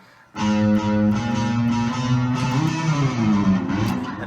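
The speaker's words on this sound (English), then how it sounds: "at the same time I press on the stomp pedal to give it that extra bit of like distortion and oomph on it" Electric guitar played through a distortion stomp pedal, a loud sustained distorted note kicking in sharply, then bending and sliding in pitch with thick, buzzing overtones and a slight wobble.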